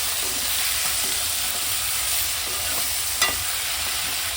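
Tomatoes frying in a pan for a spicy Telugu kalakura dish, a steady sizzling hiss throughout with soft stirring scrapes and one brief sharper clink near the end.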